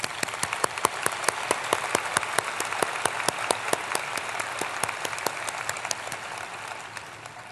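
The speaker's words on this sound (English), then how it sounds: "Let's give them a round of applause." A large audience at a spring university commencement ceremony breaks into sustained applause, dense overlapping clapping with crisp individual hand claps at moderate distance, steady and even without voices.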